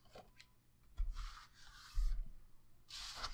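Craft knife or scissors trimming the corners of a paper card base at an angle, heard as a few short soft scraping cuts close by, with quiet pauses between them.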